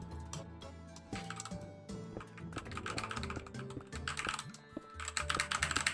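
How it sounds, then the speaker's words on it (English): Typing on a computer keyboard with a satisfying, well-tuned sound, rapid irregular key clicks near and loud throughout, with no talk, during a Minecraft hardcore play session. "I also have, like, such a good sounding keyboard."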